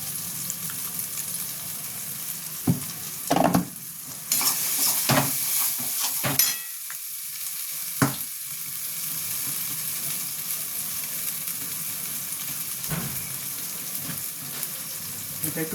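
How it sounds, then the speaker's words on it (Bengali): Green peas fry in a pan with a steady sizzle, broken by a few sharp clatters and stirring knocks; low voices can be heard faintly in the background. "এরপর আমি এটাকে একটু ভাজবো।"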